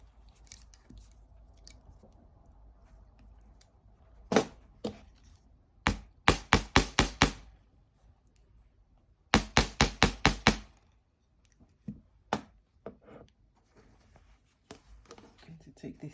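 Sharp metallic hammer strikes on wire for a spiral necklace land in quick bursts of four or five close, loud taps, with scattered single knocks before and after.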